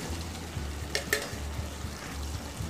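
Fried soya chunks get stirred into chilli sauce in a hot pan: a soft, close scraping and mixing over a low sizzle, with a couple of brief clinks from the spoon.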